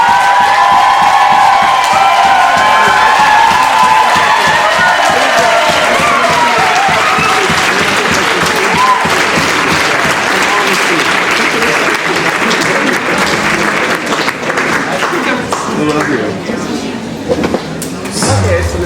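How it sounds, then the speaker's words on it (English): Loud crowd applause and cheering at a ballroom ball, a dense roar of clapping and shouting that stays strong for most of the stretch before easing slightly at the end. "Give them a round of a motherfucking applause."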